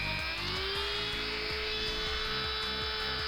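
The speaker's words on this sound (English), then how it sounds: "I'm drilling the body. I've got my more powerful Dremel out for doing this job." Steady high-pitched whine of a Dremel rotary tool running continuously, close up, with a low rattling buzz underneath as it drills into a diecast Hot Wheels car body.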